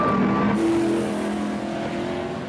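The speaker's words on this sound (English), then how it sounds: "Eric Johnson leads the field to the green flag." Modified race cars at the Lakeport, California oval take the green flag, engines droning loud and close as the field accelerates together, a steady roaring blend with no talk over it.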